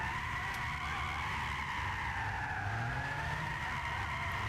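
Tires on a Lotus Carlton squeal continuously while it drifts in Gran Turismo 6, a sustained wavering screech over a low engine drone.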